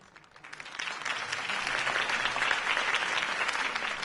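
Sustained, dense applause from a large crowd after a campaign speech, building quickly from quiet to a steady, loud wash of clapping that continues throughout.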